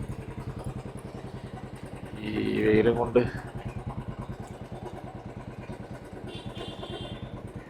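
Motorcycles idle and run at a crowded beach bike parking area in Goa, a steady low engine pulse continuing throughout with a brief louder clatter near the middle while someone talks over it.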